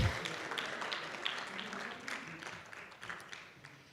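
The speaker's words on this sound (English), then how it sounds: "if we can have a big round of applause, please" A crowd at a business panel and awards event claps, starting fairly strong and gradually thinning and fading over about four seconds, with faint murmuring mixed in.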